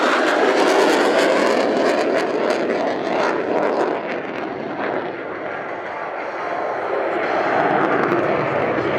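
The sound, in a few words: display aircraft flying at air show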